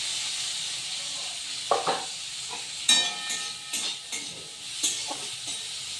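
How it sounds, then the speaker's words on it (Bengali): Fish pieces fry in hot oil, giving a constant sizzle broken by several sharper spattering bursts and stirring scrapes, close and with no voices. "তো তার আগে আমি কাল্লাগুলো ভেজে নেব"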